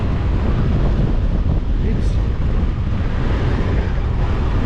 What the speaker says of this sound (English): The wind is so strong that almost tipped me over